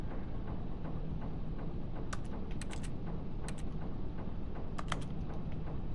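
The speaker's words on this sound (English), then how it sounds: "whenever I click my button, it sounds like a keyboard typing" Button clicks in The Stanley Parable video game that sound like keyboard typing, several quick clustered clacks over a faint steady hiss, with no talk.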